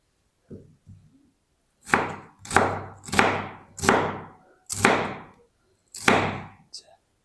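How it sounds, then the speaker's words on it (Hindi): A knife slices onions for pakoda on a cutting board, giving six sharp, evenly spaced chops that each ring out briefly, after a couple of softer taps at the start. "तो सारा प्याज मैं इसी तरह कट कर लूँ"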